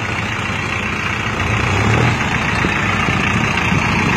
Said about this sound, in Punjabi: ਆਹ ਇਹਨਾਂ ਦਾ ਕੰਪਲੀਟ ਕਰਿਆ ਵਾ ਟਰੈਕਟਰ ਆ ਵੀਰੇ